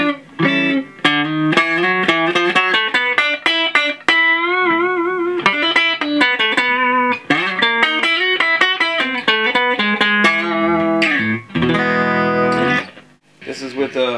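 A Gordon Smith G-60 electric guitar plays heavily distorted riffs and sustained chords through a Boss DS-1 distortion pedal set to full gain, loud and continuous with brief pauses between phrases.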